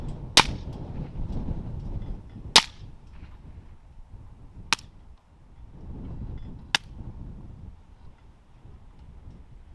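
Four sharp rifle shots from a CMMG Dissent, 338 ARC or 8.6 Blackout, ring out about two seconds apart at 25 yards, loud and cracking, over a steady rumble of wind buffeting the microphone.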